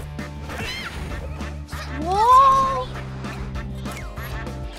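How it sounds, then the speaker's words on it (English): Cartoonish duck quacks from the video game Nickelodeon All-Star Brawl, a few rising calls in the middle of busy game music and effects, with a player exclaiming over them. "I love the ducks."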